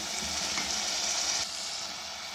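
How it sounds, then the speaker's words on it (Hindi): Masala spices for baingan bharta fry in a hot pan with a close, steady sizzle that holds evenly, then drops slightly in level partway through, with no voices. "देखिए मसाला हमारी बहुत अच्छी तरह भून चुका है।"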